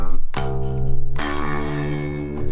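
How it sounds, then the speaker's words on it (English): Bass line played on a guitar patch of the Hydra virtual instrument, sounding as loud sustained low notes with bright attacks re-struck a few times, alone with no voices. "the bass is actually using a guitar patch from the same instrument I've been using, the Hydra"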